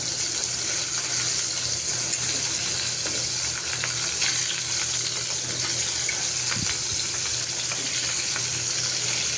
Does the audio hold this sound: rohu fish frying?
yes